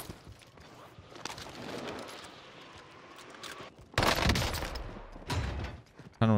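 Airstrikes pound the player in the video game Warzone Rebirth: a sustained rumble of distant gunfire gives way to two sudden, loud, close explosive blasts near the end.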